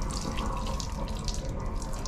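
Water runs steadily from a tap into a sink aboard a DSB IC4 train in Denmark, a continuous close splashing rush with no talking.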